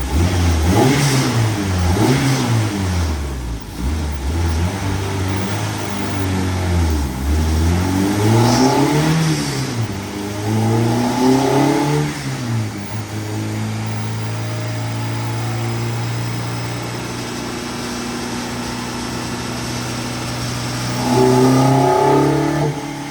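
A K-swapped Mazda Miata engine revs hard through a power pull, its tone rising, dipping and rising again in long sweeps. It stays loud and close throughout, then settles near the end before a final short burst of revs, with no talking.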